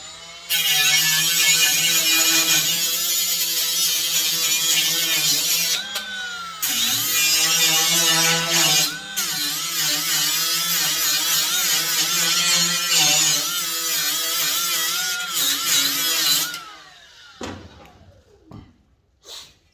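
A Milwaukee M12 Fuel die grinder with a 60 grit abrasive grinds continuously at close range, a loud steady whine with shifting pitch, briefly pausing near the start and middle before winding down and stopping at the end.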